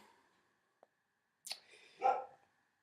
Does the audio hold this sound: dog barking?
yes